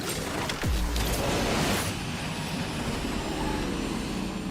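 An airplane passes in a video game with a loud rushing engine drone, and a falling whine marks a quick fly-by before the roar fades into a steady broadband hum.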